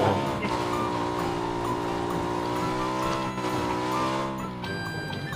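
A car driven in the video game Battlegrounds, a steady loud engine drone holding a rising pitch before easing off near the end, heard alone without talk.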